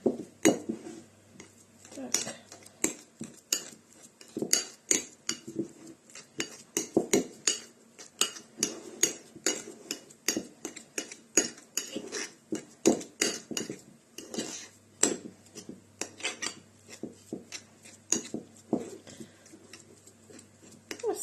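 A fork or spoon repeatedly clinks and scrapes against a bowl while mashing egg yolk with mustard and sour cream for okroshka, a steady run of close, light metallic taps throughout.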